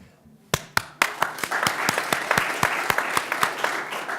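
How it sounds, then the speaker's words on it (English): Audience at a university business competition clapping for the contestants, starting with a few sharp isolated claps that build into a steady round of applause, fairly close and modest in volume. "We encourage you to cheer on the contestants, like I mentioned."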